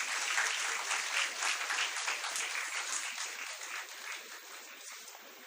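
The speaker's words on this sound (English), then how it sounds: "A round of applause, everyone." An audience applauds an achiever on stage at a Class X felicitation ceremony, dense even clapping that fills the hall and slowly tapers off toward the end, with no voices over it.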